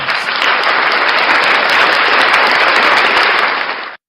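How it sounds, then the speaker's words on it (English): Canned round-of-applause sound effect: a dense, even crowd clapping that holds steady and loud for about four seconds, then cuts off abruptly into silence. "Round of applause for First Amendment shenanigans."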